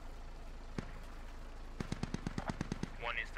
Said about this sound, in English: The MRAP's taking some shots from the Dishka.